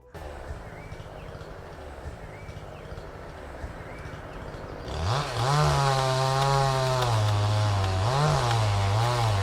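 A chainsaw drones at low idle, then revs up loudly into a sustained cutting roar with pitch dips as the blade bites into a tree trunk.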